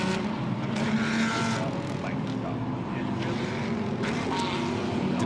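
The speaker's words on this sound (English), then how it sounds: "Cars all leaving the grid then." DTM race cars pull away from the grid at the Norisring street circuit in Nuremberg during Race 2 of the 2022 season, engines roaring loudly and continuously as the field moves off together.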